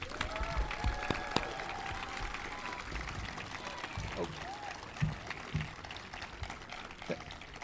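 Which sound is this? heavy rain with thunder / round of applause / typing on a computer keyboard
round of applause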